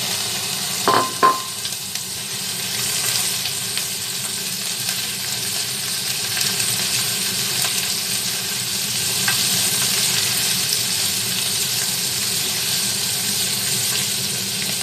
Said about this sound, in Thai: ใส่กระหล่ำลงไปผัดเลยนะคะ